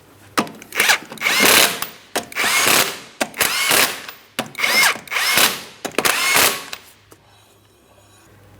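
A power tool whirs in five or six loud, close bursts, each about a second long with short ratcheting gaps, as it spins on the 19mm lug nuts of a 2003-2007 Cadillac CTS wheel.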